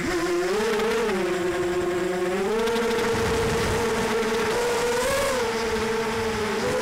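AKASO F250A FPV racing quadcopter with CC3D flight controller flying close by, a loud continuous high-pitched motor and propeller whine with rising and falling tones as throttle shifts, alone without talk.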